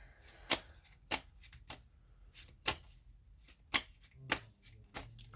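Tarot cards are shuffled in a series of crisp, quiet riffles and taps spaced about half a second apart, close up and alone.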